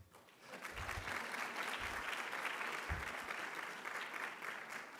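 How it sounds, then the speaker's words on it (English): Graduates and guests at a physician assistant white coat ceremony give sustained, even applause, a dense wash of many hands clapping with no voices on top. "give yourselves a round of applause"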